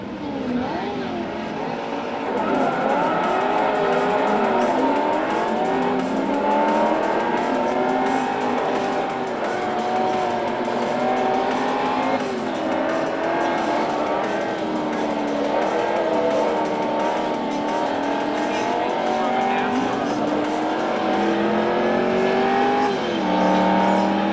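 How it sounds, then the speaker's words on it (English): A racing car engine in the video game Forza 3 whines and revs continuously, pitch rising and falling through gear shifts, loud and steady throughout. "Darren had his turn driving Forza 3"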